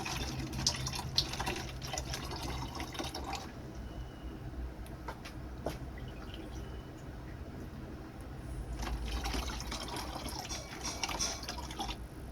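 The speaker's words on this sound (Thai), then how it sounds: "เอาน้ำเปล่าๆใส่" Plain water poured onto chopped vegetable and fruit scraps for homemade compost, a steady splashing trickle that fades midway and returns louder near the end, close by with no talk.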